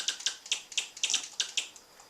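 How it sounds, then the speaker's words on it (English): Keys clack on a separate USB computer keyboard used with a laptop, a quick, uneven run of crisp, close clicks with no voices. "I have to use a USB keyboard, a separate one."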